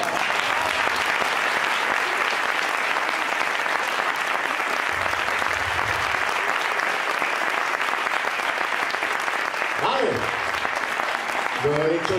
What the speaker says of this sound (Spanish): Cuando el público se levanta a aplaudir a los artistas, es porque se merece un aplauso más grande.